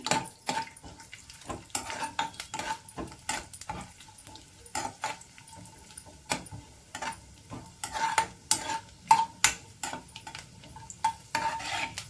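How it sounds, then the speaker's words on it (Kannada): Raisins fry in a pan for a sweet dish while a spoon stirs and scrapes, making irregular clinks and metallic taps over a faint, low sizzle, with no voices. "ಲೈಟಾಗಿ ಈಗ ದ್ರಾಕ್ಷಿ ಕೂಡ ಸೇರಿಸ್ಕೊಂಡು ಲಾಸ್ಟಲ್ಲಿ ಫ್ರೈ ಮಾಡಿಕೊಂಡು ತೆಕ್ಕೊಂಡ್ಬಿಡೋಣ"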